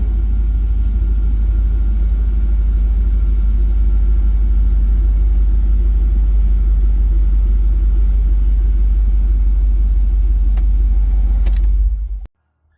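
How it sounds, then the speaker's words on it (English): 2003 Dodge Dakota 4.7L V8 idles steadily after a start, a close, even low rumble that continues alone and then cuts off abruptly at the end. "Start the engine and verify proper oil pressure operation."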